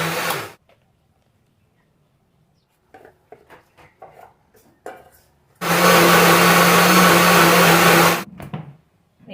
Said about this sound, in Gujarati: હવે આ બેટરને આપણે મિક્સરમાં લઈ અને આને પીસવાનું છે